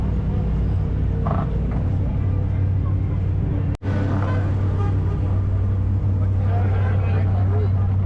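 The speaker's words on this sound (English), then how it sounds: "And now a 4-point turn in a GTP car." A GTP prototype race car at the Rolex 24 Hours of Daytona manoeuvres slowly, its engine giving a loud, steady low rumble that drops out briefly mid-turn, with ambient crowd noise around.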